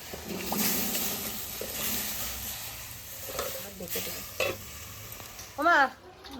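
Potatoes go into a hot pan and fry for a home-cooked meal with cauliflower and paneer, a soft continuous sizzle with stirring scrapes and a few sharper hisses, fairly quiet, with faint voices in the background.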